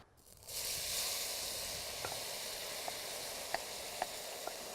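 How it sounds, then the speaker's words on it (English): Olive oil heating in a braiser pan begins with a sudden steady sizzle that settles into a constant hiss, broken by a few small, sharp pops. "So now we're gonna get some olive oil into our pan here."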